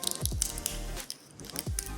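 Vitamin E capsules squeezed into a mixture, giving a few soft, close squishy squirts and small wet pops, quiet and brief.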